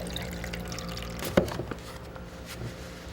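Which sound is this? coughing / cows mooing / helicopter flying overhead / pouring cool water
pouring cool water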